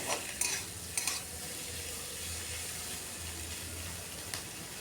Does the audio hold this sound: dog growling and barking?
no